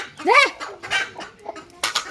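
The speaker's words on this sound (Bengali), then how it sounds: "মুরগি তো যে কেমন করতেছে" A hen gives a few rising clucks close by, then softer scattered clucks and yard noises follow in a quiet farmyard.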